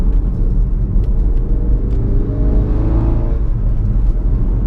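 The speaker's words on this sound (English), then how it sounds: "And then you just hear the downshift." Loud, close engine rumble of a Mk3 Ford Focus RS downshifting, with a rising and falling whine as the revs shift, continuous road noise underneath.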